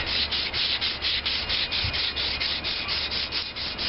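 Rhythmic back-and-forth scraping of a hand sanding block on a wooden stand for a Maytag Model 72, sanding for paint, about four strokes per second, close and steady with no talking.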